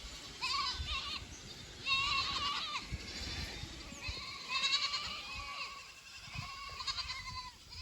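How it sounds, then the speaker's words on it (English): Goats on a farm bleat repeatedly, several animals overlapping at close to moderate distance over rustling background noise. "Come on, goats!"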